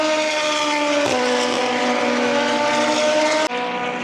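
Loud, high-revving Super GT race cars, GT300 and louder GT500 classes, roar steadily past at Fuji Speedway, their pitch shifting as they speed by, with no voices over them.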